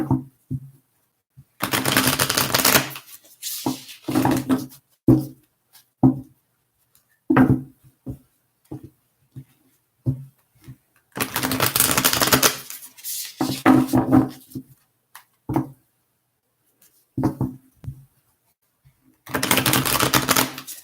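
A deck of tarot cards is shuffled in repeated bursts of crisp riffling and flapping, close and fairly loud, separated by short pauses and softer taps.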